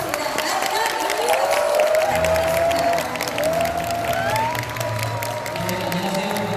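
A crowd at a LifeWave business gathering welcomes a speaker to the stage with steady applause mixed with scattered cheers and whoops, while tonal background sound and voices run beneath the clapping.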